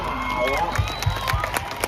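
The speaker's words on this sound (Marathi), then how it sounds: "टाळ्या टाळ्या टाळ्या" Spectators at an outdoor wrestling bout in Kolhapur clap and cheer, a loud mix of crowd noise, whoops and scattered claps under a commentator's excited talk.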